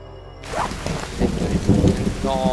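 Steady rain pours with rumbling thunder in the survival game The Forest, a dense loud wash of rainfall starting abruptly and rolling on with low crashing rumbles throughout.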